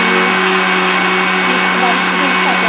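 A mixer grinder whirs steadily as it grinds sugar fine for kaju katli, a continuous loud motor drone throughout with no pauses.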